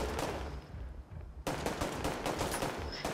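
Rapid automatic gunfire in The Division 2 video game, loud dense bursts of shots with a brief lull before another sustained volley.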